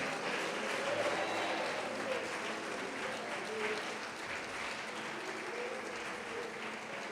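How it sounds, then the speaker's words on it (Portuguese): A church congregation applauds during a worship service, steady dense clapping sustained throughout at an even level, with faint voices mixed in beneath. "Pode aplaudir"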